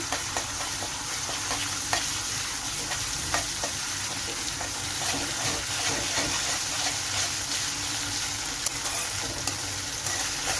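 Ginger garlic paste frying in a pan of partly browned ingredients for a Kerala kili meen fish pickle. A loud, steady sizzle sounds close by, broken by frequent scraping and tapping from the stirring spoon.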